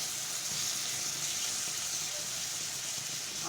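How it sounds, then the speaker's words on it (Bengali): Spice masala for a small chiti crab dopiaza cooks on a medium to low flame with a steady, soft, hissing sizzle throughout and no voices or distinct clatter. "এবারে সমস্ত মশলাটাকে আমি ভালো করে কষিয়ে নেব মিডিয়াম টু লো ফ্লেমে আমি কষিয়ে নেব"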